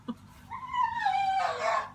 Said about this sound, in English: that actually is my dog. He's very excited. He thinks there's a rabbit out in my backyard